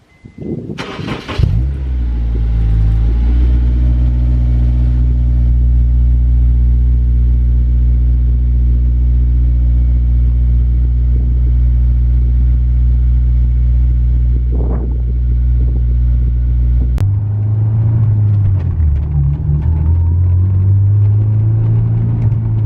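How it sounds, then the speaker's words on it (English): A car fitted with a T1R Racing exhaust starts up and settles into a deep, steady rumbling idle, with a short blip of revs near the end, loud and close. "check out the exhaust clips"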